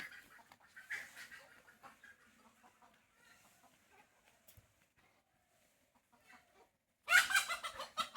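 Loose chickens scurry near a village house, scattered faint clucks and rustles followed by a sudden loud burst of squawking and flapping close by at the end.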